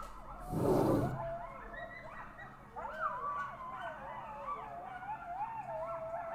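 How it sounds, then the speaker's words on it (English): A pack of coyotes yips and howls at a distance, with wavering, overlapping high cries after a brief burst of nearby noise at the start. "These are all coyotes."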